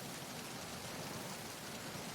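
Rain falls in the Metal Gear Solid 2 video game as a dense, even hiss of drops hitting a hard surface, steady and unbroken throughout.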